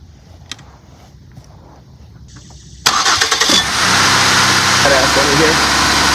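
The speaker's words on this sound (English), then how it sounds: "let's start the engine and go from there" A truck's starter cranks briefly, then the engine catches and settles into a steady, loud idle with a low rumble.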